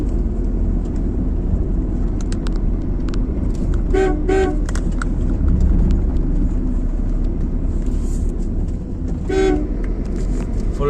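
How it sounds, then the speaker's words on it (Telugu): On a sharp hairpin turn of a ghat road through the Nallamala forest, a vehicle horn sounds in a few short toots, then two louder double blasts, over a constant low engine rumble. "హారన్ కంపల్సరీ యూజ్ చేయాలండి ఇక్కడ."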